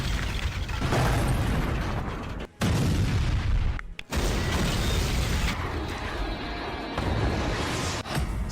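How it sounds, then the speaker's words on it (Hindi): Heavy, rumbling booms and roaring blasts from an explosion at sea, reportedly destroying a Russian submarine, fill the clip almost continuously, broken by two brief cuts, loud and dense. "समंदर में जबरदस्त धमाका,"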